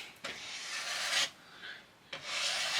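A file rasps along a wooden prop dagger to shape its edges, in three long, close strokes separated by brief pauses.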